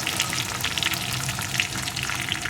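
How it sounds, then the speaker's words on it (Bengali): Onion and tomato frying with salt in a pan for a pomfret fish curry, a continuous crackling sizzle at steady volume with no talk. "এখন কিছুক্ষণ আবারও ভেজে নেব পেঁয়াজ টমেটোটা"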